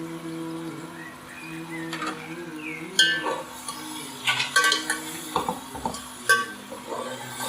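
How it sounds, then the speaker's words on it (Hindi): A ladle stirs chicken pieces into fried masala in a pot for homemade chicken dum biryani, with irregular scraping and clinking against the pot over a low sizzle, several sharper knocks standing out near and clear. "चमचा जो है वो बड़े एहतियात से चलाना है, ये कहीं बोटियाँ जो हैं वो टूटे नहीं"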